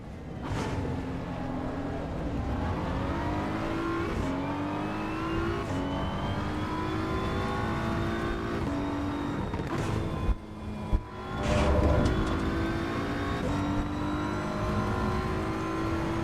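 A race car engine revs hard on the Nürburgring in Assetto Corsa EVO, rising and falling through repeated upshifts and downshifts, loud and continuous, with a brief dip and a bump near the end.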